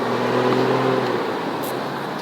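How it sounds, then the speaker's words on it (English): A car passes close by on a street, its engine hum steady at first and then fading into broad road noise, with no one speaking. "we just walked in front of the car"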